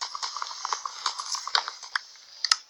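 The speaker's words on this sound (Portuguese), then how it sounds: "Tem até cavalo zumbi." Zombie horse hooves in a video game sound as a quick, uneven run of light, hollow clip-clop taps, close and fairly quiet, with a few sharper knocks near the end.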